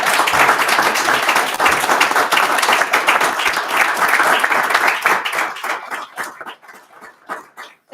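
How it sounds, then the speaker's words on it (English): Audience at a League of Women Voters candidates' forum breaks into sustained applause, loud and dense at first, then thinning into scattered claps that fade toward the end. "I will lift my ban on applause so we can thank the candidates"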